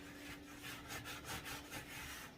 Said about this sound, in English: when I'm scrubbing here, I can feel the sugar